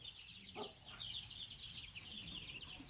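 Local Muscovy ducks let out of their pen in the Can Tho countryside give steady raspy, hissing calls and low chatter, moderately close, with a short low grunt early on and no speech.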